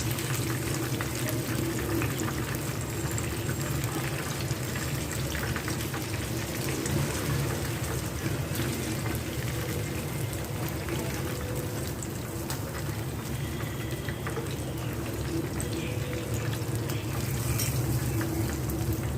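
Chicken wings for crispy KFC-style hot wings frying in hot oil, a steady, dense sizzle and bubbling that runs unbroken at close range throughout.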